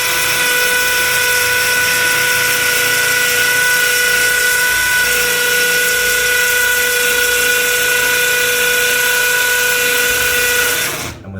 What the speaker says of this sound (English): I'm not rushing, I'm not over stressing the drill, I'm just letting it do its work.